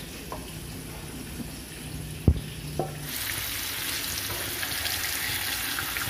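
Tofu frying in a pan for a stir-fried chayote dish: a quiet background hiss with a couple of soft knocks, then a steady, louder sizzle swelling up halfway through and holding to the end.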